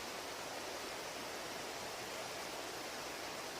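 Grin Fechan River flowing nearby in the Black Mountains, a faint, even broadband rush of water that stays constant throughout without talking.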